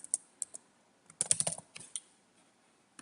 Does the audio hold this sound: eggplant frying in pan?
no